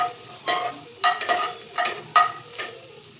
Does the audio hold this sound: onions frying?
yes